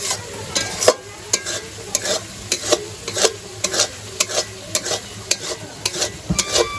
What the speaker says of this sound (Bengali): এই যে মোটামুটি আমি মশলাটা কষিয়ে নিলাম।